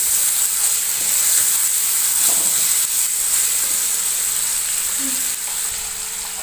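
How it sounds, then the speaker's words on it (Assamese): Cumin and coriander powder frying in a pan, a steady close hiss and sizzle with a few faint scrapes, continuous and fairly loud, fading slightly toward the end. "তাৰপিছত এইখিনি মই অলপ টাইম ভাজিম।"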